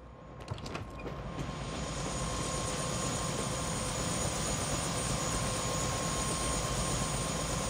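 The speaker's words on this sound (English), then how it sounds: "Heard there's a chopper on the roof." In the Prey video game, a helicopter sits on a rooftop, its steady rotor and engine drone building from a few sharp clicks into a continuous loud whir that holds to the end.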